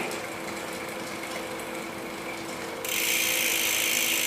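Bicycle rear derailleur shifting the chain onto a rear sprocket, a soft mechanical whirring of the spinning drivetrain that turns into a louder, rougher grinding rattle partway through, close up with no talk.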